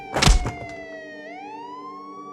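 A wailing siren sweeps down then rises again, loud and steady, opening with a brief heavy thump.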